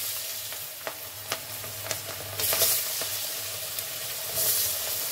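Chopped onions frying in hot oil with dry chilli and a bay leaf, a continuous close sizzle with intermittent stirring scrapes and brief louder bursts of hissing.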